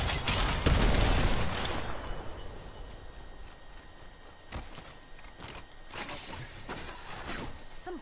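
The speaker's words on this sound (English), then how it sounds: "Some flunkers shooting at me." Enemy players fire at close range in Apex Legends, heavy rapid shots up front fading into scattered distant bangs and cracks, with no talk heard.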